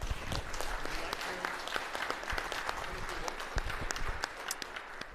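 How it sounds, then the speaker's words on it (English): An audience at an award ceremony claps steadily for an honoree named Harry, a fairly quiet, distant wash of hand claps with sharper individual claps poking through. "So let's clap again for Harry."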